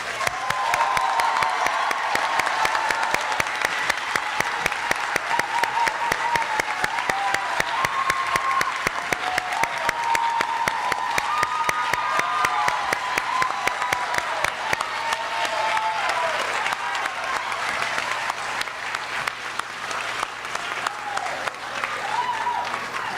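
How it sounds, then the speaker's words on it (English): Sustained applause from a large audience at a high school career center graduation fills the space, dense steady clapping with some cheering mixed in throughout. "Please give our graduates a round of applause."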